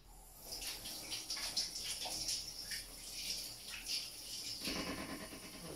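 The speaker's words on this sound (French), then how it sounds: "retour à l'évier pour se laver les mains" Tap water runs into a kitchen sink while hands are washed, a faint, steady splashing stream that shifts as the hands move through it.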